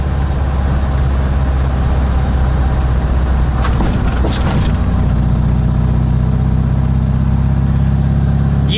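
Volkswagen Type 3 with dual carburetors driving, a loud steady engine drone heard from inside, with a brief rise in revs midway before settling back to an even cruise.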